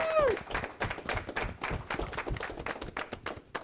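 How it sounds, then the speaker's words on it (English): Crowd at a street protest breaking into applause, a dense wash of many hands clapping close by for several seconds, with voices mixed in. "Please give yourselves a round of applause."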